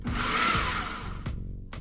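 A blender on its chop setting grinds smoked brisket with a loud, steady whirring roar, broken by a few short pulses and knocks as chunks hit the blades.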